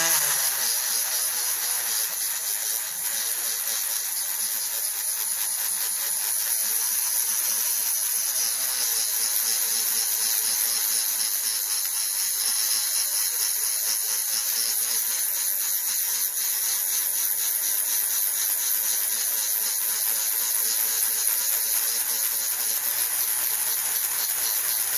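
A Dremel rotary tool whines steadily while polishing the face of dinosaur gembone with sandpaper, a continuous high buzzing drone that runs alone without pause.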